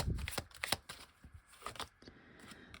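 Tarot cards being shuffled and drawn by hand, a series of quick papery riffles and snaps up close, fairly soft, with no talking.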